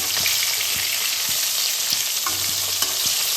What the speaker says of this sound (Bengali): মাছের তেলেই আমি মাছ ভাজছি